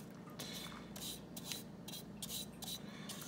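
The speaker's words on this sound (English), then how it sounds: "So I just scrape it all clean." A Magical Butter Machine container being scraped clean, with repeated short rubbing and rasping strokes in an uneven rhythm, close and fairly quiet.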